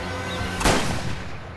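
A single loud gunshot from a film scene, one sharp crack with a short booming tail cutting through a low background soundtrack.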